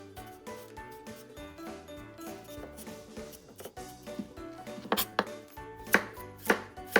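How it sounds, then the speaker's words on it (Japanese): A peeled carrot is chopped with a knife on a cutting board, sliced and then minced, giving a run of sharp, close chopping taps that quicken into loud, rapid strikes. "まず薄切り、千切り、 向こうにしてみじん切りと。"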